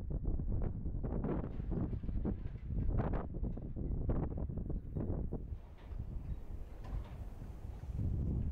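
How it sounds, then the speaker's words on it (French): Strong wind by a roadside in Romania buffets the microphone in heavy, rumbling gusts that rise and fall continuously, loud and close, with no other clear sound. "Il y a énormément de vent"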